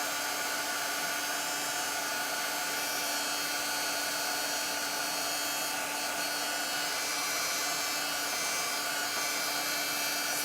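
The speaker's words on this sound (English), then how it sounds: "Heat gun gets hot, and I knew that." A heat gun blows steadily while drying layered paint on a small Christmas craft piece, a continuous close, even hiss and whine with a faint hum throughout, no talking.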